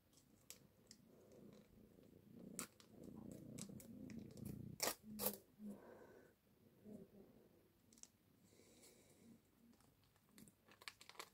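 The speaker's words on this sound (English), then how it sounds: "You guys hear him purr?" A pet cat purrs softly and continuously at close range while being given a breakfast of wet meat, with faint clicks and chewing sounds mixed in.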